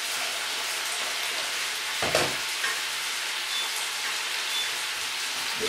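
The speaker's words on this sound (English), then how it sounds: "The onions frying away." Onions and venison sizzle in a pan, a steady crackling fry with a brief louder stir or clatter partway through, close and moderately quiet, with no talking.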